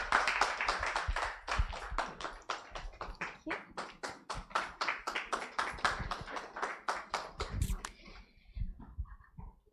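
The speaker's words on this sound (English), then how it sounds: "So yes, round of applause for COO," Audience clapping at a company launch event in a hotel, a dense burst of many hands that keeps up steadily for several seconds before thinning out and fading near the end.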